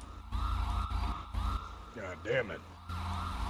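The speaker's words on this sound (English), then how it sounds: "What vehicle has a siren on it?" A vehicle siren wails in GTA V roleplay, a loud wavering emergency tone cycling continuously up close, briefly overlapped by a man cursing.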